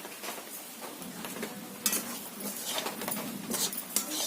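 A spoon stirs and scrapes masala in a cooking pan, with clinks of metal on metal and a light sizzle, close and moderately loud with no talking.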